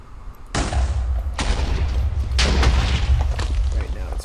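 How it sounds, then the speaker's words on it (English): Deep booming blasts from a mutant weapon in modded Minecraft go off repeatedly, three heavy explosions in a few seconds with rumbling tails, loud and close. "you can right click and it will cause an explosion that will deal some damage to mobs"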